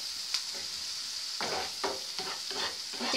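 Chopped onions sautéing in a pan while a spatula stirs them, a soft steady sizzle broken by several scraping stir strokes, close and fairly quiet with no talking.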